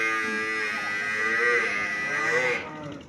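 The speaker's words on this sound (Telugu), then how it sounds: "బర్రె పాల బర్రె అన్న" A Murrah milk buffalo gives a long, loud, sustained moo close by, holding steady for about two and a half seconds before cutting off into quiet.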